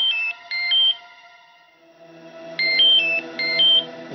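A phone's melodic ringtone chirps for an incoming call in a domestic drama scene, two bursts of bright alternating tones with a softer sustained tone between, moderately loud and without talk.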